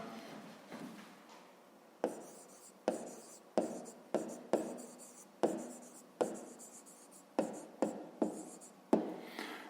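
Pen writing an answer on paper, heard up close as a series of short scratchy strokes and taps in an irregular rhythm, quiet and alone with no talking.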